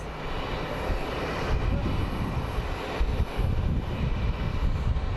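British Airways airliner at Phoenix Sky Harbor airport, a steady broadband jet engine roar holding at moderate loudness throughout with no voices.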